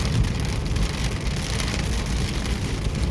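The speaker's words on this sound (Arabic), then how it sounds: "ما شاء الله أمطار غزيرة، اتجاه مليحة." Heavy rain pours down outdoors during a summer downpour, a dense continuous roar of drops on surfaces with a low rumble underneath, steady and loud throughout.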